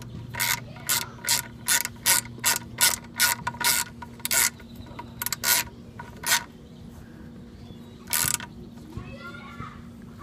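A hand ratchet clicks in quick bursts of rapid pawl ticks, tightening bolts on an old mini-bike, with pauses between strokes and a faint steady hum underneath.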